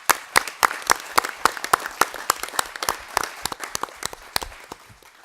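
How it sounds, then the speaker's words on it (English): An audience at a wildlife commission meeting claps for the facility staff, sharp distinct hand claps in a quick, irregular rhythm from a modest crowd that continues throughout. "I think we all ought to give the staff here at this facility a big round of applause"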